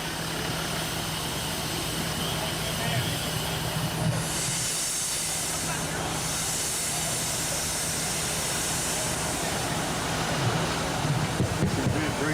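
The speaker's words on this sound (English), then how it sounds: "Stanley steamer over there for you" A Stanley Steamer steam car runs at a speed-event time-trial practice, a steady broadband hiss and rumble throughout with a faint humming tone and a brief brighter hiss surge midway, no talk.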